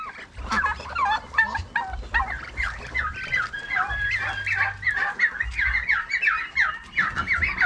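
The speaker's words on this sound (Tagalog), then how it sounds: "Ating mga pabo naman sa mga breeder o mga pinalalaki" Breeder turkeys gobbling continuously in a pen, a dense overlapping chorus of warbling calls from several birds, close and loud, with a low hum underneath.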